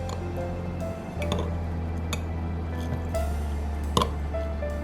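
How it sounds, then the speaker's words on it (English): A spoon presses a green tea bag in a cup, giving a few light ticks and clinks over a steady background hum. "Squeeze the tea bag using a spoon."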